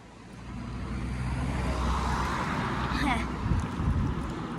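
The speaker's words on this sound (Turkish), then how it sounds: "Arkadan araba geliyor." A car approaches from behind on a road and passes, its engine and tyre noise rising from a faint rumble to a close swell and then trailing off, with a brief sharp hiss near the end.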